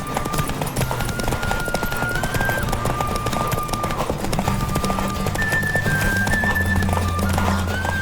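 Rapid hoofbeats of a galloping horse in the video game Witcher 3: Wild Hunt drum steadily throughout, close and loud, mixed with a sustained musical tone and low hum.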